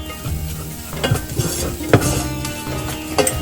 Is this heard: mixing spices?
yes